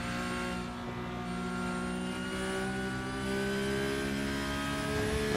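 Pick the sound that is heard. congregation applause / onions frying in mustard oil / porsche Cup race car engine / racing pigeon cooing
porsche Cup race car engine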